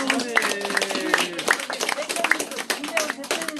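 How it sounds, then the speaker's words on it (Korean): Clapping from the crowd at a Yeongdeungpo Free Village launch ceremony, scattered claps running under amplified speech and background music. "우리 이제 승리할 것을 위해서 박수."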